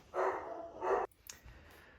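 Dogs barking indoors, two loud sustained bursts close by followed by quieter scattered sounds, no speech.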